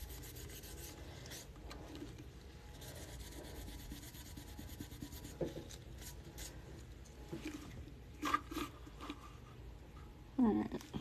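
A rag dampened with rubbing alcohol is rubbed over a tumbler, giving a continuous close, quiet scrubbing rasp with rhythmic strokes and a few sharper taps and squeaks near the end.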